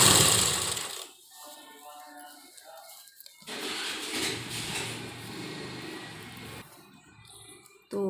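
Sewing machine stitching the pocket pieces of a lined trouser, running in two sustained bursts with a quiet pause between, and a faint low voice underneath.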